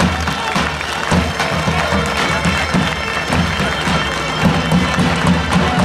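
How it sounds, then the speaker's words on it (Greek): A crowd applauds and cheers at traditional wrestling bouts during a 2023 church festival, with a dense, steady wash of clapping that holds for the whole stretch, mixed with crowd noise. "Ένα θερμό χειροκρότημα παρακαλώ."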